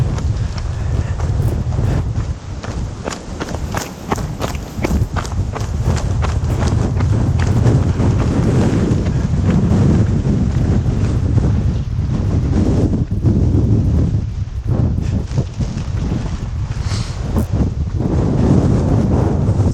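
A strong mountain wind buffets the microphone on a rocky scree trail high in the Mallorca mountains. Heavy, roaring gusts rise and fall continuously, and footsteps crunch on loose stones beneath them.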